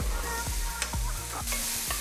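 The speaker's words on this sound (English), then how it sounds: "You've got to wait for it to start sizzling." Food fries hard in a hot pan with a steady bright sizzle, broken by repeated scraping stirs at a quick, even rhythm, close and fairly quiet.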